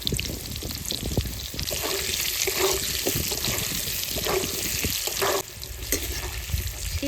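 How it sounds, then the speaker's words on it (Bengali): Boiled potatoes shallow-frying in a pan of hot oil, a steady dense sizzle with faint scraping and stirring clatter throughout, no voices. "এই দেখুন লাল লাল করে আলুগুলো ভেজে নিয়েছি"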